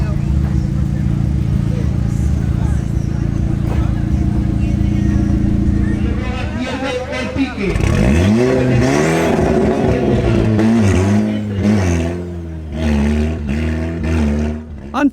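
Two drag-racing cars, a BMW M340i xDrive and a Volkswagen Bora GLI, idle loudly and steadily before one revs hard and accelerates away in rising, sweeping engine tones, with more revving and engine noise following.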